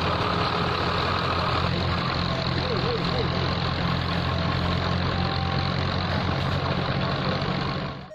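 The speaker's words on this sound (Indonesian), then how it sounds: "Di sini ada mobil truk pasir." A toy sand truck gives off a loud, steady, droning engine sound that runs unbroken for several seconds and then trails off at the very end.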